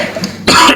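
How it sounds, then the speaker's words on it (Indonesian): A single short cough burst, close and fairly loud, after a moment of quiet room noise. "Mulai batuk-batuk saya udah ya."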